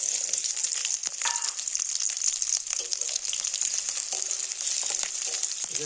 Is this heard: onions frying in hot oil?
yes